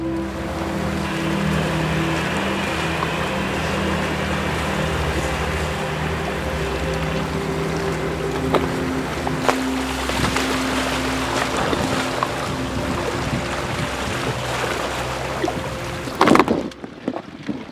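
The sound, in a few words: ship cruising through icy Antarctic waters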